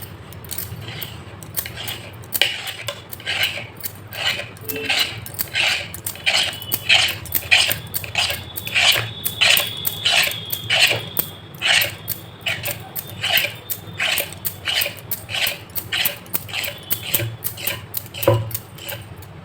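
A knife cuts rolled nimki dough into thin strips for Bihari-style nimki, giving a steady run of sharp, close taps and scrapes on the board, each stroke distinct, with no talk.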